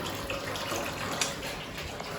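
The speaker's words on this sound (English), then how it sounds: "I'm just going to take a shower" Shower water runs in a steady, hissing broadband stream in a hotel bathroom in Liverpool, even and continuous, with a couple of faint splashes and no voices.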